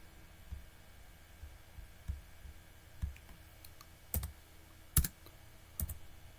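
Sparse keystrokes on a computer keyboard, about half a dozen separate clicks spaced roughly a second apart, quiet and close over a faint steady hum.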